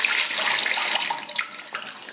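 Water rushes steadily into an electric water heater being refilled through the household lines, a continuous hissing, splashing flow heard up close with no voices.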